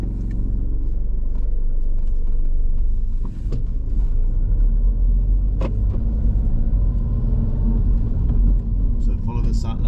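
A car on a driving test in Swindon pulling away and moving off, the engine a steady low rumble inside the cabin, with a few small knocks and clicks along the way.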